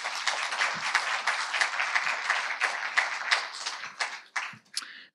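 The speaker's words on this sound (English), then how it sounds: "Should we give Sue a round of applause?" Audience applause for a guest speaker named Sue at a talk on sexuality and inclusion: steady dense clapping from a room of people for about five seconds, tapering off at the end.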